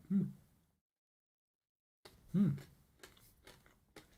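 A bite into crunchy Finnish orange chocolate with brittle gives a sharp crack, then after a pause another crunch followed by several softer chewing crackles, close to the mic.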